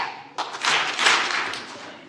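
A church congregation at a Palm Sunday service claps in a burst of several loud hand claps that ring out and fade, with no talking over them.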